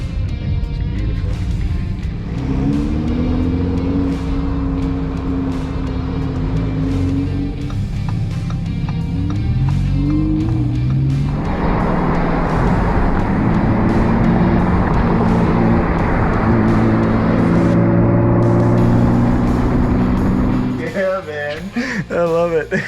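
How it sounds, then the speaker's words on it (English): A Ford GT sports car is driven low and fast, its engine droning loudly and rising in pitch through the gears with steady wind roar, then dropping off near the end. "This is how you drive a Ford GT, low and fast."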